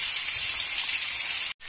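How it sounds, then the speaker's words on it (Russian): Moray eel skin sizzles and hisses steadily in a hot frying pan, a constant close bright fizz that cuts out abruptly near the end. "Видите, кожа сжимается, когда жарится."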